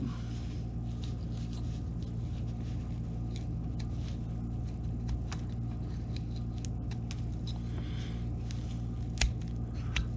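Carving knife trimming and rounding a wood carving, with a dense stream of small, close scraping and snicking cuts over a steady low hum.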